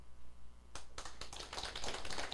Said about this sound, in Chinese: 你拍手